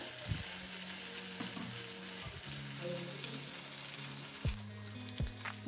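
Bread pizza frying in butter in a pan over a high gas flame, a soft steady sizzle close by, punctuated by a few faint scrapes and clinks from the pan.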